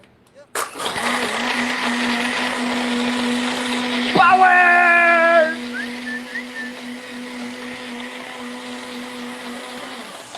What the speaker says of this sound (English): Okay, you need a good blender for this. Otherwise, you're gonna ruin it with the ice.